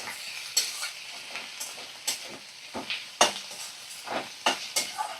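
A spatula scrapes and knocks against a pan as cumin paste and fish head are stirred, giving irregular sharp clacks over a soft background sizzle, close by on low heat.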